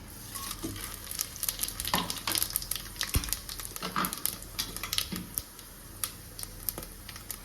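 Whole green cardamom, cloves and black peppercorns go into a hot pan for Punjabi-style chicken curry, with quick crackles, pops and small clatters over a faint sizzle, irregular and close.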